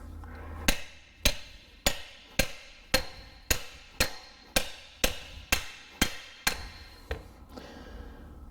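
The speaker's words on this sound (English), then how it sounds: "Now I think it's just because I'm not hitting it correctly." Hammer blows strike a CV axle joint during a teardown, about a dozen sharp metallic impacts in a steady rhythm, close and loud, each ringing briefly before the next.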